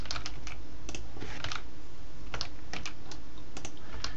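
Arrow keys on a computer keyboard are tapped while working in Microsoft Word 2013, giving about a dozen crisp, close clicks in an uneven rhythm with short pauses between them and nothing else heard.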